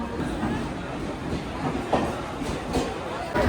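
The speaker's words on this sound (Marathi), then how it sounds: "आली रे आली, लातूर एक्सप्रेस आली." The Latur Express rolls into a crowded station on the Mumbai to Latur route, a steady rumble with scattered wheel clacks and bumps while voices chatter nearby.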